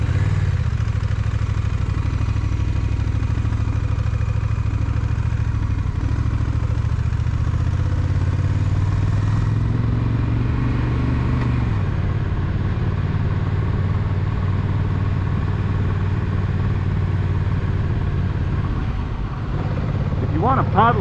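A 2023 Honda Rebel 1100T motorcycle engine runs loud and close as the bike pulls away, a steady low rumble that shifts in pitch partway through, with a rider talking over it.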